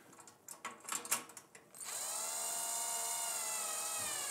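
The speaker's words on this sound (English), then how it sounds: "I'm going to grab my drill." A power drill whirs up to a steady high-pitched spin while tightening a VMA stand for a straight stitch sewing machine, following a few close clicks and knocks of handling, loud and alone.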